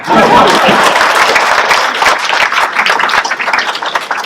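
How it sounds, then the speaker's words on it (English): Audience clapping at a community meeting about keeping Chestertown's hospital open, loud and close at first, then thinning into scattered, uneven claps toward the end. "You can clap on that if you like."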